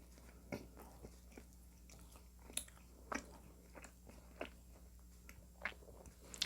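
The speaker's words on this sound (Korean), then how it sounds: "못난이 도너츠를 먹어볼게요." A Korean glutinous rice donut being bitten and chewed up close, with a few crisp bites followed by soft, quiet, moist chewing in a steady rhythm and no talking.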